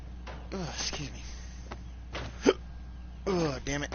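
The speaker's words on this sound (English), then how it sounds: "Ugh, damn it, I got the hiccups now." Hiccups from a man playing Fallout 4, several short sharp catches spaced out over a few seconds, close and fairly quiet, with some muffled vocal groans between them.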